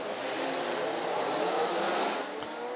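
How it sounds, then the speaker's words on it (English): Radical race cars at Silverstone roll off onto the formation lap during a Radical European Masters race, a steady broadband engine roar from the field holding throughout at moderate distance. "Bradley Smith, who leads them off onto the formation lap"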